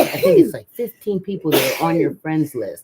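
A single sneeze bursts out near the start, followed by people chatting casually over the rest of the moment.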